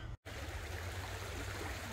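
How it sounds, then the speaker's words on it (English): Floodwater rushing along a park path after heavy rain, a steady broad hiss of flowing water, close and continuous, interrupted by a brief dropout near the start. "Yeah, the water's flowing real good today. You see it flowing right on down."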